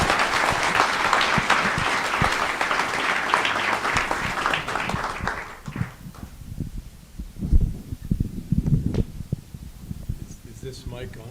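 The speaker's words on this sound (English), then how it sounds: "Please give a round of applause to the brothers, Einar and 𝗕𝗿𝗄𝗃." An audience breaks into sustained applause for the artist brothers at the ICA San Diego exhibition event. The dense clapping fills the first half, then thins into scattered claps and room noise.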